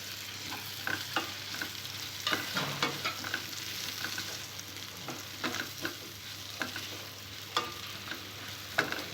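Brinjal pieces fry in a pan with ginger-garlic paste for a tomato curry, a steady soft sizzle broken by frequent scraping stirs of the spoon, fairly close and with no talking.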